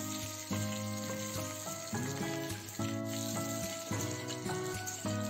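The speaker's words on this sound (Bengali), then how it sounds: "এবার কড়াইতে দেব সর্ষের তেল। ফোড়নে নিচ্ছি গোটা তেজপাতা, শুকনো লঙ্কা" Whole bay leaves, dried red chillies and fenugreek seeds sizzle steadily in hot mustard oil in a kadai, a close, continuous frying crackle with no one speaking.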